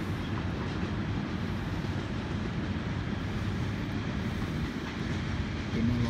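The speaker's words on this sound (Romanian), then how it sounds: "Uite trenul." Steady low rumble of a train moving through hilly countryside beside the Mureș river below the Zărand mountains, heard from a distance as a continuous, fairly quiet roll.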